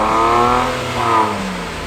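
A BMW car with an aftermarket exhaust and a cold air intake revs loud and close, holding a steady, rising engine drone that swells again partway through.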